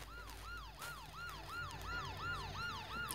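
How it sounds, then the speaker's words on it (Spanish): Police car siren in a video game, a repeating wail that cycles steadily about every third of a second, loud and close over a low engine rumble, with no talking. "Porque acabo de prender la sirena."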